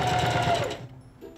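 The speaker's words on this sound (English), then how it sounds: "Place the fabric, bring the presser foot down, and begin sewing." A Singer CP6350M sewing machine stitches fabric with a fast, buzzing whir that runs loud and close for under a second, then stops abruptly, leaving quiet.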